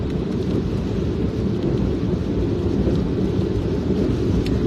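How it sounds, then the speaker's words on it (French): Steady, dense roar of heavy rain pouring down outside, a constant broadband wash with no voices. "La quantité de pluie qu'il y a dehors, c'est la magie."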